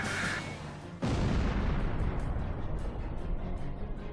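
A sudden deep explosion booms in the Ace Combat 5: The Unsung War video game on PS2, followed by a dense, sustained roar of gunfire and blast rumble that stays loud to the end.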